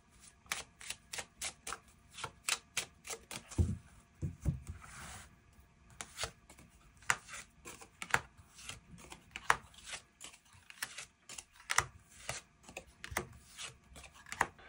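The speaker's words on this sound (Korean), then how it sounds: "추가 카드로 일별로 월요일부터 일요일까지 어떤 하루하루를 보내게 될지 추가 카드 뽑아보도록 하겠습니다" Tarot cards are drawn from a deck and laid down in a quiet room, making a long series of soft, close flicks, slaps and shuffling rubs in an uneven rhythm with brief pauses, with no voice.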